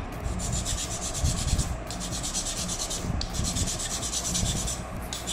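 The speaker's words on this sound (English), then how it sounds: "all I'm going to do now is continue sanding now" Steady back-and-forth sanding on a plastic model kit part for a 1/60 Gundam, close and scratchy, with rhythmic strokes and brief pauses between passes.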